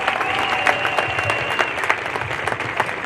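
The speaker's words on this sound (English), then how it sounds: "Give another big round of applause." Crowd applause fills a rodeo arena at a main-arena horse show event, steady clapping from a large audience that carries evenly throughout with scattered louder claps and no speech.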